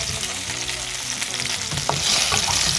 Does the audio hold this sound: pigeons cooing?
no